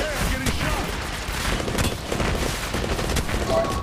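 Rapid gunfire in the mobile battle game Apex Legends Mobile, dense repeated shots and bursts throughout at steady loudness, close and busy, with faint game voices mixed in.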